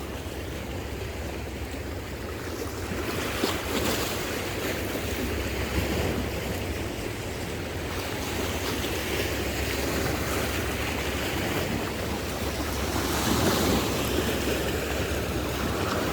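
Sea waves crash and wash continuously against coastal rocks at a fishing spot near Pohang, a loud, unbroken surf roar with wind, swelling now and then.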